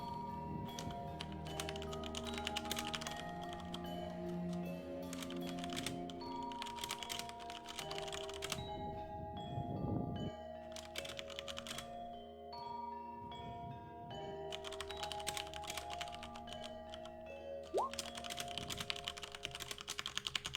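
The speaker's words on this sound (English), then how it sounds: "Sorry for the loud typing." Fast, loud clattering of keys on a computer keyboard, dense bursts of typing with short pauses between runs, close up against a faint background hum.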